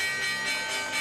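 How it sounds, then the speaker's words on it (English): A stock market opening bell rings as a continuous, sustained metallic tone with rich overtones and a slight pulsing throb, filling the whole moment alone at moderate loudness. "we've got the opening bell"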